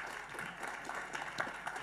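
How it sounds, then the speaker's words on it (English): Audience applause at an event, a brief, fairly faint patter of many hands clapping, evenly spread with a few sharper claps standing out. "Let's give a round of applause."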